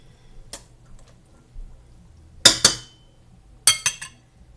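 A utensil stirs adobo-seasoned food in a bowl, making a few sharp clinks and taps against the dish in small bursts with quiet pauses between them.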